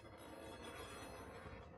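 Freight train in the Run 8 train simulator rolling backward, a steady broadband rumble of cars and wheels on rail, continuous and fairly loud with no talk.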